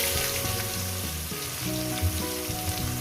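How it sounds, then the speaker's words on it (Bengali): Whole cumin seeds and bay leaf crackle in hot oil at the start of a chicken and potato curry, a bright, steady sizzle under a bed of stepping musical tones. "একটু গোটা জিরে আমি যেহেতু গরম মশলা বেটে দিয়েছি দিয়ে দিলাম কয়েক সেকেন্ড ভেজে নেব"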